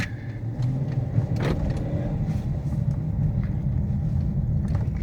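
A 2016 AWD V8 Dodge Charger Pursuit cruises on a highway, with a steady low engine and road rumble heard from inside the cabin and a few faint clicks and rattles.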